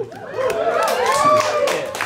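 Audience at a stand-up comedy show clapping and chattering, a loose mid-level patter of hands with laughter and murmuring voices mixed in throughout.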